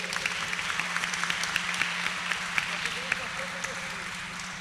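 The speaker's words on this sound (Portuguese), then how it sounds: "Uma salva de palmas aos professores" An audience at a talk applauds the teachers, a dense, steady patter of many hands, with voices mixed in underneath.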